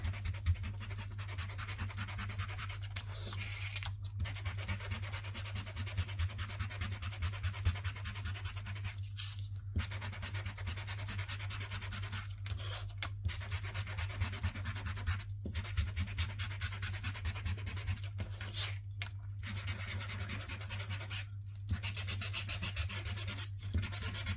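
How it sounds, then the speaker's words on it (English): Sanding a paper planner flap book page by hand, heard as continuous close rasping strokes in long stretches broken by several short pauses, faint and even throughout. "So you see, I don't look where I sand"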